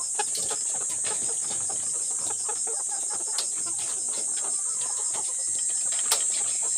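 Layer chickens cluck softly in a poultry house, scattered short calls over a constant high-pitched hiss and a low background hum, with occasional sharper clucks standing out.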